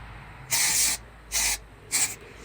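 Three short hissing bursts from a dry shampoo aerosol can sprayed onto hair, the first longest, each separated by a brief pause, close and fairly loud.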